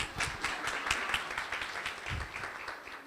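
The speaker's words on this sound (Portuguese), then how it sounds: "Uma salva de palmas, senão ele vai ficar triste." Audience applause for a speaker taking the stage, a steady, moderately distant wash of many hands clapping that continues throughout without talk.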